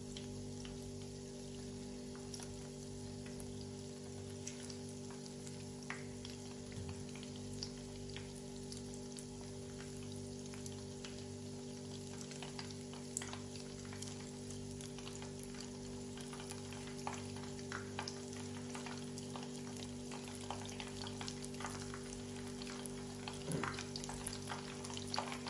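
Mozzarella sticks fry in hot oil with a soft, continuous sizzle and scattered crackling pops, quiet and steady throughout with no talking.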